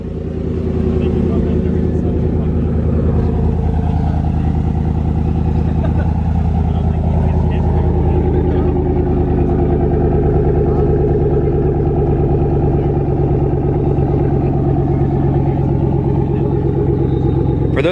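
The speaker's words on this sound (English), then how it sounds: "For those of you wondering what the muffler delete sounds like" A lifted 2021 Chevrolet Silverado with a muffler-delete exhaust rumbles continuously with a loud, deep, steady note, and voices talk over it throughout.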